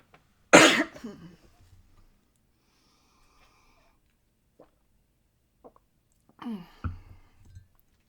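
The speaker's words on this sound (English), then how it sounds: "let me sort of cough and drink some water" One loud, harsh cough near the start, then quiet, followed by another throaty cough with a short rasp near the end.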